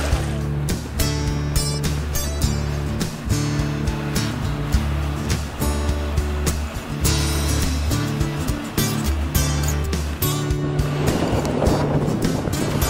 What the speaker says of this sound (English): So, Gilfay, we're going out on the Zodiac, huh? Yeah, let's go for a ride